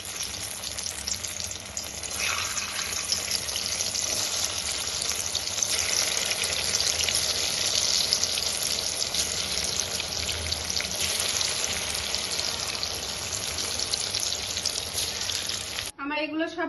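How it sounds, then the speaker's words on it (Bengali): Steamed green banana pieces frying in hot oil in a karahi, a continuous loud sizzle throughout with occasional stirring, ending with a brief clatter. "এবার এখানে একটা কড়াইতে তেল গরম করে আমি এইগুলো লাল করে ভেজে নেব।"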